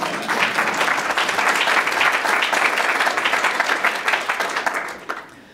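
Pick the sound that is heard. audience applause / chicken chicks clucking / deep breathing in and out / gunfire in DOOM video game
audience applause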